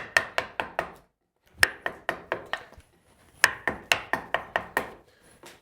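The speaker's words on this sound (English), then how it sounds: "and then I just start chopping towards my lines." Chisel chopping into a wood trim board for a corner trim block, sharp percussive blows in quick bursts of four to six strikes separated by short pauses, close and clear with no talk.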